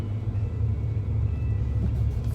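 A steady low engine rumble from a BMW 330i on the move, droning continuously with no voices.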